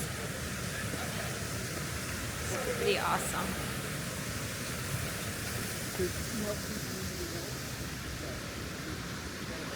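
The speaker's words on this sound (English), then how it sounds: "We can really hear the water going by next to us." Steady broadband rush of creek water flowing right beside a hiking trail in Stone Mountain State Park, continuous and close throughout, with a person talking briefly over it.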